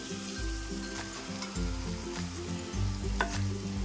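Day-old cooked rice, everyday rice rather than basmati, is tipped into a sizzling pan and stirred, with close frying hiss and repeated soft scraping thuds of the spoon turning it.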